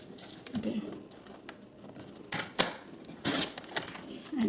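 Card paper for a gift card folio being cut, with irregular bursts of crisp cutting and rustling of paper at close range, separated by quieter gaps.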